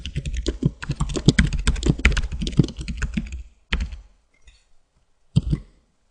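Rapid keystrokes clatter on a computer keyboard in a quick continuous run, close and crisp, then pause before a final short burst of taps; no voices.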